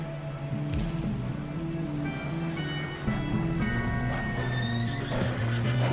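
Horse neighs and hooves clop in Red Dead Redemption 2, set against a steady game soundscape with a layered score; the whinnies rise clearly over a continuous low bed, with a louder stretch in the second half.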